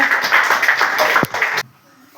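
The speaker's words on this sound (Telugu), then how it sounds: "very good claps కొట్టినమ్మా" Children clapping together in a classroom, a brief burst of dense applause lasting about a second and a half under a teacher's voice, then stopping abruptly.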